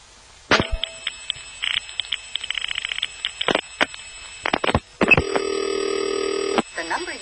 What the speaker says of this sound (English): This particular call is the sound of calling into a northern city like New York from a suburb to a number that is disconnected.